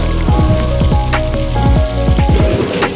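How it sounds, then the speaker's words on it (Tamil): Tomatoes sauté in a hot pan, giving a dense, close sizzle and crackle that runs steadily and loudly the whole time, with music playing underneath. "நெக்ஸ்ட்டு தக்காளி போட்டு நல்லா வதக்கிக்கலாம்"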